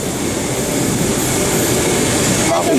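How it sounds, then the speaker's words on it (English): A train arrives at a station with a steady, loud rumble and rolling noise that fills the whole stretch; faint voices are barely noticeable under it. "Here comes the train now."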